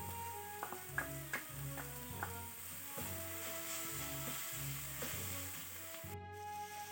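Ginger garlic paste frying in a pan for butter chicken, a steady sizzle with repeated stirring scrapes and clinks running throughout, close and moderately loud.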